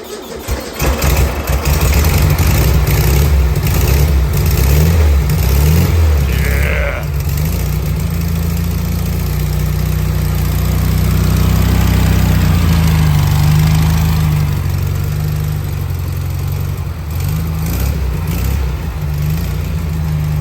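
A 1973 VW Beetle engine with an EMPI two-tip exhaust runs steadily close by, a deep, loud rumble that holds throughout with no speech.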